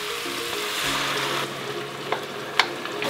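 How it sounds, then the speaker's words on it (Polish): White wine goes into a pan of okra, setting off a steady close sizzle and hiss of frying liquid, with a couple of small clinks of a utensil near the end. "ten moment, w którym dodajemy białe wino"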